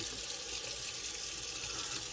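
A water tap runs steadily for a cold water face rinse during a wet shave, a continuous close hiss of flowing water from start to end with no voices.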